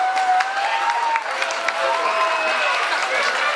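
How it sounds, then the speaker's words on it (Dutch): Crowd applause at a football tournament, steady dense clapping from a sizable group throughout, loud and continuous with a few brief whistles or cheers rising above. "even een applaus voor de Oranje Vereniging."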